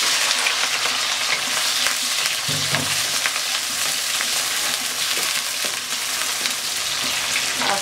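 Onions frying with garam masala in a hot pan for a meat and pigeon jhal rezala, a steady dense sizzle running throughout with a few soft stirring scrapes, close and fairly loud, no talking.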